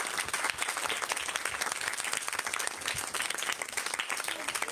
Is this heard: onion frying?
no